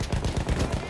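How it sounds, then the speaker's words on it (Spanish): Rapid bursts of gunfire from a Battlefield 1 campaign mission, a close, rattling string of shots with a steady automatic rhythm throughout the short stretch. "Buen disparo, Bishop"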